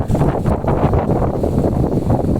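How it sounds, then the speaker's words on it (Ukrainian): Strong wind blowing across a lake during a boat fishing trip at first ice, a steady loud roar of gusts buffeting the microphone with no pauses. "Дує страшне, волна, дерева гне."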